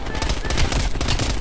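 Gunfire in the shooter game Black Ops Cold War, an assault rifle shooting through a building, a loud rattling burst of rapid shots.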